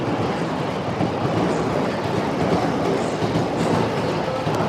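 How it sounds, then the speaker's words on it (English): Trains running through central Shibuya, Tokyo, a steady continuous rumble with faint rhythmic wheel clatter from nearby tracks and street noise, no voices. "I'm not mic'd up, so you're gonna hear these trains and stuff in the city sounds."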